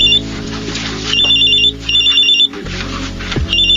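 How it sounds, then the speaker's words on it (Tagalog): A cellphone rings in a Filipino radio drama, its electronic ringtone repeating in short bursts over a low background hum, loud and close with no talk. "May tumatawag sa cellphone ko."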